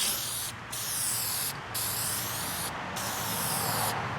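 Spray gun coating Humvee HMMWV soft doors with a wide fan pattern, a loud steady hiss broken by four brief pauses as the trigger releases, no talking.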